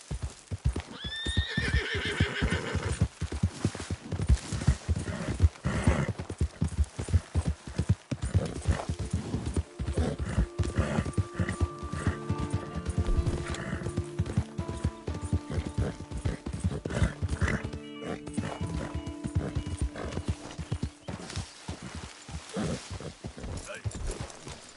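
Horse hooves clip-clop steadily in the Red Dead Redemption video game, with whinnies and neighs early on and a continuous busy game soundscape underneath, while people talk over it.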